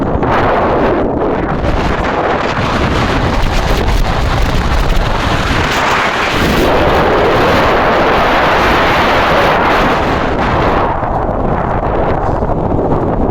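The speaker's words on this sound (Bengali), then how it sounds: "এখানে অনেক বাতাস গাইস, মনে হচ্ছে আমাদেরকে উড়িয়ে নিয়ে যাবে।" Strong wind roaring and buffeting the microphone continuously in Greece, loud and close, with gusty rumbling and no voices.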